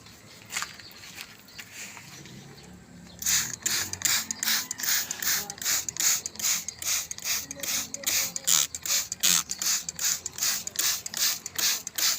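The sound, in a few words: spray bottle spraying water on Olmetie seeds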